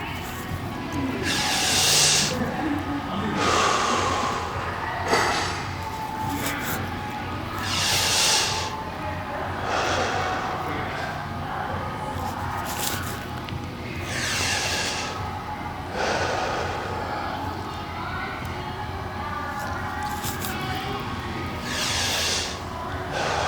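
Slow, deep breathing during a full-body recovery stretching routine, with repeated breathy inhales and exhales audible at close range over a soft background, no talking.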